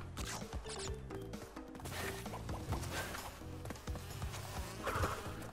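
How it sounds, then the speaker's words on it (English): Insect-like buzzing from the bees in Crash Bandicoot: Cortex Strikes Back (N. Sane Trilogy), a steady droning hum over game music and effects with rhythmic thumps, no speech. "You stupid ass bees."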